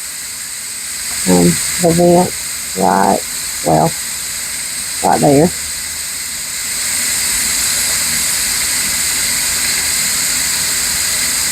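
A pressure cooker vent releases steam after cooking chicken Alfredo, a steady loud hiss that rises and grows stronger toward the end, with brief talk early on.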